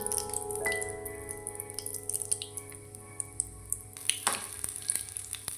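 Mustard seeds and garlic temper in hot oil for chicken sukka, giving a faint, crackly sizzle with scattered small pops and a few clinks, under a steady tonal hum.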